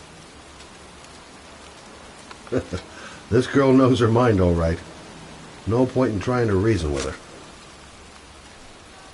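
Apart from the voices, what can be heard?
rain pouring in a cemetery, from a video game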